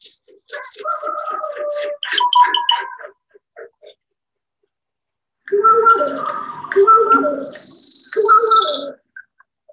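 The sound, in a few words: great horned owl call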